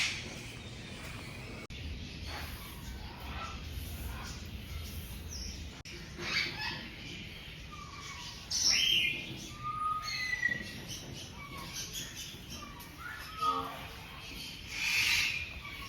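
Green parrots call in a zoo aviary, scattered sharp chirps and squawks near and far over a soft rustling ambience, with some faint background voices.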